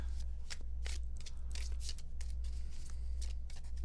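Oracle cards are shuffled close by in a quiet room, a run of crisp riffling bursts and soft slaps repeating at an uneven pace over about four seconds, with no talking.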